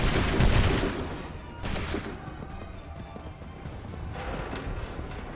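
Musket volley fire in Assassin's Creed III: a dense, loud, rolling crackle of many guns going off together, surging at the start, again near two seconds and once more toward the end over a rumbling battlefield bed.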